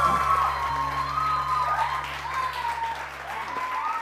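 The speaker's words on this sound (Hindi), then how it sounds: "तो बहुत सारी तालियां पेल के लिए" A studio audience on a morning television show applauds a guest, with steady, moderately loud clapping throughout and a faint tonal whine and low hum in the background.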